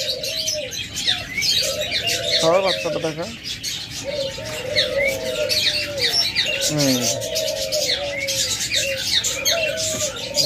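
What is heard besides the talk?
pair of ghughu doves with chick cooing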